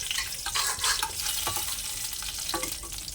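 Dried red chillies and chopped cashews fry in hot oil with a steady, crackling sizzle and small bursts of spattering. The sound is close and continuous, with no talking.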